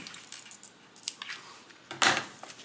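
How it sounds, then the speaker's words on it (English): Scissors snip small notches into fabric marks while cutting a pattern for a divider bag: several short, crisp, close clicks spaced irregularly, the last one sharper and louder, with no talking. "I'm going to add a little snip to each of those marks, just 1/8 of an inch, not a big snip."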